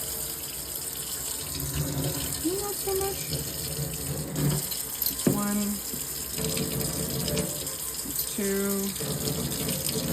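Water runs steadily from a kitchen tap into a measuring cup while a cook measures water for a teriyaki chicken casserole, and a person speaks briefly over the flow.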